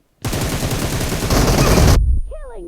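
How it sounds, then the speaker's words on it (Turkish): A rapid burst of automatic gunfire from the video game PUBG Mobile lasts nearly two seconds, loud and dense, then cuts off into a brief whooshing effect. "Bak ben birisine sıkarken Elitan geliyor."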